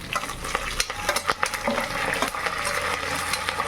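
Curry leaves fry in oil with shallots, ginger and garlic for a mackerel curry: loud, dense sizzling and spattering with stirring scrapes, continuous and close throughout.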